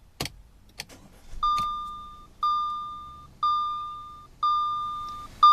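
Starting a 2014 Audi Allroad 2.0T by pushing the key in: a couple of sharp clicks, then a series of four repeating electronic chime tones in a regular rhythm, with faint low engine hum beneath and no speech.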